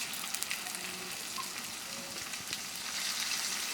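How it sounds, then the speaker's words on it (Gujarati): Grated fresh turmeric sizzling in hot ghee with a pinch of asafoetida, a continuous close hiss and fine crackle that builds slightly toward the end, with no talking. "અને આ હળદરને આપણે આ રીતે ઘીમાં સાતળી લઈશું"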